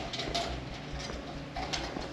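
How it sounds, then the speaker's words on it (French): A pigeon coos softly in an abandoned airport, several faint low calls set against echoing room ambience and scattered small noises. "Un pigeon."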